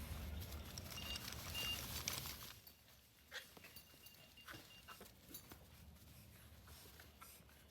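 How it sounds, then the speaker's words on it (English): Several dogs in a pack, including a corgi, shuffle about with soft padding and faint whimpers, a busy rustling stretch first, then quieter scattered movement and small yelps close by. "Now I show him I can control the other dogs."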